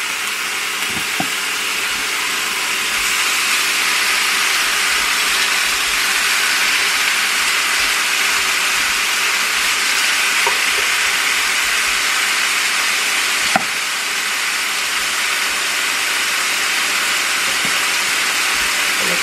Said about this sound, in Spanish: Aquí nomás se va a asar con el aceite que le puse y la grasita que trae la carne.